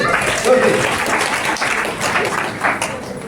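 Audience applause at a religious katha gathering in Vrindavan, a steady wash of clapping that fills the whole moment at an even, fairly loud level, with some voices mixed in.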